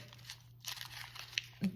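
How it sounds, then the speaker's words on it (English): A sheet of drawing paper crumpled by hand into a tight ball, giving quiet, irregular crinkling and crunching with a few sharper crackles and a soft thump near the end, close up with no speech. "you just need to crumple that into a ball. And the tighter that you make it"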